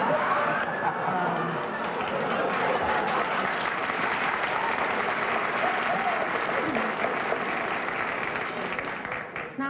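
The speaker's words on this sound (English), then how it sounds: "Now, why was that applauded?" Sustained studio audience applause at a 1963 panel game show, a dense, steady wash of many hands that tapers off near the end.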